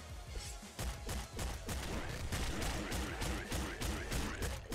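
Hand cannon firing in the game Nuclear Throne, a rapid series of heavy punchy blasts with crunchy impacts, packed closely together and loud throughout.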